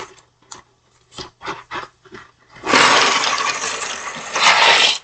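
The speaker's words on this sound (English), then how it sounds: "We're going to go ahead and add just 1 box of noodles." A box of pasta noodles poured into a pot of boiling water: a few dry rattling shakes first, then a loud sustained rushing hiss and crackle as the noodles hit the water, close by.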